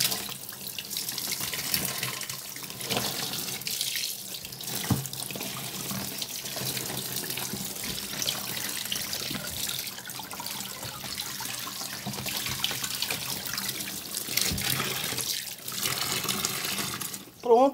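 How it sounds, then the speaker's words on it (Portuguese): Tap water runs steadily into a sink as freshly harvested produce from a potted garden is rinsed of soil, a continuous loud splashing stream with occasional handling sounds. "Já lavei ele, passei uma água pra tirar a terra"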